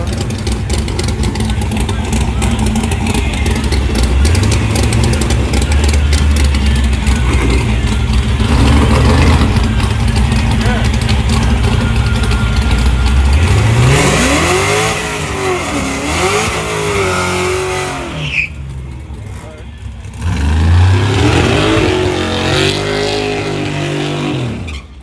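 Drag racing grudge-race car at Yellow Belly, engine running loud and close with rough idle and repeated sharp revs rising and falling, a brief lull before revving again, with people talking over it.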